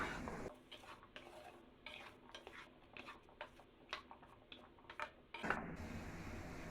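Cut sweet pumpkin pieces fry in a pan for a mixed vegetable dish, with a steady low sizzle beneath repeated scraping and stirring clinks of a utensil, close up and without talk.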